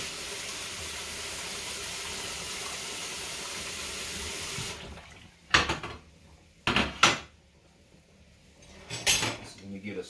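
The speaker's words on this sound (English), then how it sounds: "Gotta rinse this rag off." Water runs steadily from a kitchen tap while a rag is rinsed, then cuts off, followed by a few clattering knocks of utensils and dishes near a waffle maker, with a voice speaking briefly.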